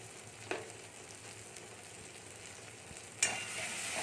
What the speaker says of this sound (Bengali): এবার আমরা মশলাটাকে একটু ভালো করে কষিয়ে নেব